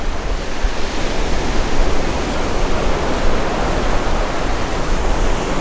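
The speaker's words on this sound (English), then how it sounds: "As you listen to the waves." Ocean waves break steadily on a sandy beach at sunset in Gokarna, India, a loud, continuous wash of surf and rushing water filling the whole stretch, with no voices heard.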